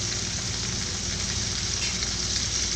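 Small onions sizzle steadily in a hot pan while cooking beef ularthu, a loud continuous frying hiss that fills the whole moment with no talk.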